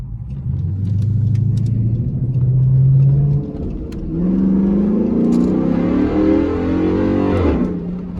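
A Hemi-powered truck with a ported factory intake drives off and accelerates, its loud engine rumbling and revving through rising gear pulls, then easing and building again close by.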